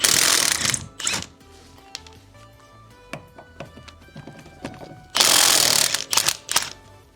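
An impact wrench removes lug nuts from a car wheel in several loud, close hammering bursts, with quieter ratcheting and clanking between them and no talk.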